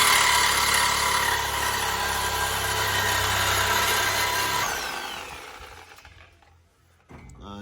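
A power tool cuts through a rusted muffler on a Toyota pickup, a loud sustained grinding whine that holds steady for several seconds, then winds down and fades near the end, with a brief clunk afterward.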